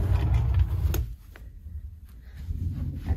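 A deep cruise cabin drawer slides with a close rumbling scrape, then a quieter pause, and the sliding resumes more softly.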